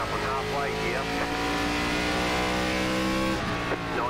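A race car engine in the iRacing NASCAR ARCA Series at Kern Raceway drones loud and steady, holding high revs with faint pitch sweeps as the throttle shifts. Talk can be heard over the engine.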